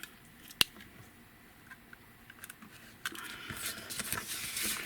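A sharp snip, then quiet scattered clicks, followed by a longer rasping scrape as a craft knife blade draws through material near at hand.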